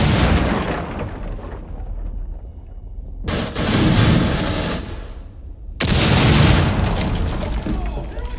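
A breach charge detonates in the shooter Rainbow Six Siege, a bomb-mode match. It comes as a loud, close boom with heavy low rumble, and the sound cuts sharply between segments, with a high steady ringing tone in between.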